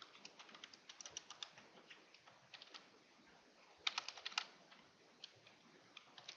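Quiet computer keyboard typing while JSON syntax is entered, scattered soft key clicks with a few sharper bursts of keystrokes, heard alone against a faint background hiss.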